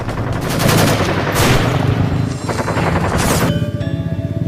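Loud sustained automatic gunfire as a sound effect in a depiction of an armed assault, rapid dense bursts with brief gaps, rattling on and then tapering off.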